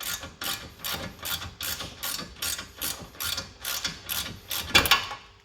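A ratchet wrench clicks in steady, evenly spaced bursts while undoing a seized ball joint nut on a 1975 Corvette Stingray front suspension, close and clear, about a dozen ratcheting strokes with a sharper final clack.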